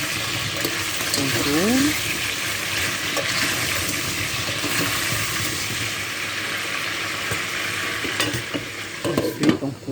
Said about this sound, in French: Là, on tourne un peu et on tourne nos pommes de terre.